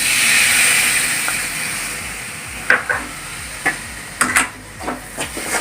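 A loud, steady sizzle of chopped tomatoes frying in a pan slowly eases off, then several sharp stirring scrapes and clacks punctuate the hiss.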